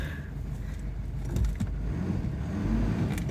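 A 2007 Nissan Pathfinder SUV in reverse gear with its differential lock tested, giving a steady low engine and drivetrain rumble throughout, with small clicks and a slight swell near the middle.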